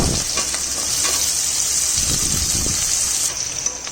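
Chopped onion fries with garlic in hot oil in a pan, a loud continuous sizzle with stirring scrapes and soft clunks near the middle, the hiss easing slightly at the end.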